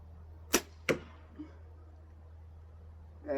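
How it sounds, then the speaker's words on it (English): Outdoor archery practice with a bow: two crisp arrow releases snap out in quick succession close to the listener, followed by a small soft knock over low steady hum. "back to shooting arrows"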